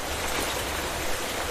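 Steady rain in the Minecraft Life in the Woods modpack, a dense, even hiss of falling water with no gaps, filling the whole moment on its own without any voices.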